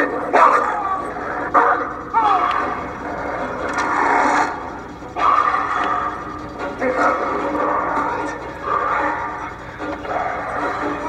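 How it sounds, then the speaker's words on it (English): Dog barking in the horror video game Until Dawn, several loud yips and barks spaced across the scene, interleaved with whimpers and people talking. "You're afraid of a dog?"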